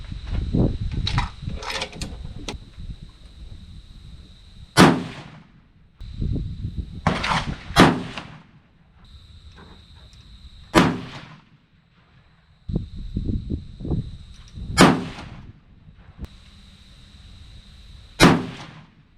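A 6.5 PRC rifle fires five evenly spaced, sharp, loud shots outdoors, each followed by a short echo, with bolt cycling clatter and handling noise between rounds and a steady faint high tone in the background.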